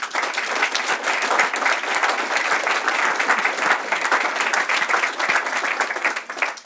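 Sustained audience applause fills the hall, dense and steady clapping from many hands at a contest event, near and loud throughout with no talk over it.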